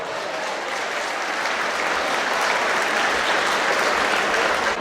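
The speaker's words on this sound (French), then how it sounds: "Applaudissements s'il vous plaît." Audience applause at a 2016 event in Conthey, Switzerland, welcoming a Swiss Alpine choir academy on stage: dense, steady clapping from a large crowd, loud and sustained for about five seconds with no voices over it.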